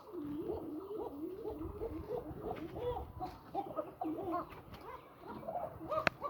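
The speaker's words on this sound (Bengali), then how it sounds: "আমি এই জন্য আর কি কবুতর পালন করব, আমার ডাকটা অনেক সুন্দর লাগে।" Domestic pigeons coo in soft, repeated rolling calls, several birds overlapping at a fairly quiet level, with a sharp click near the end and no talking.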